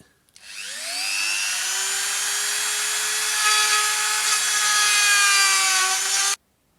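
A power tool hollows out a workpiece for a homemade water dynamizer, holding one loud, steady whine with a rising pitch that runs without a break for about six seconds before cutting off abruptly.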